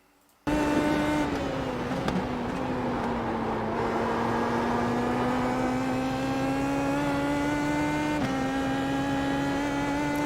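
A car engine on a lap of the Nordschleife, heard from inside: a loud, steady droning engine note that slowly climbs, broken by brief dips around gear changes.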